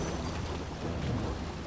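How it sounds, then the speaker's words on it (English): Lava in the game Blue Fire roars as a loud, steady rumble, a continuous churning wash with no breaks and no talking over it. "That lava is loud."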